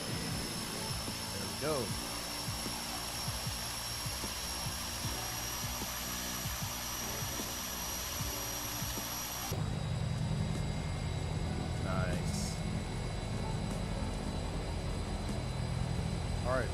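An aircraft engine in Microsoft Flight Simulator 2024 spools up during startup, a steady loud whine and roar with a shift in tone partway through, while someone speaks briefly over it.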